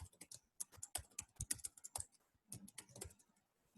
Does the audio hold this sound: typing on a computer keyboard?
yes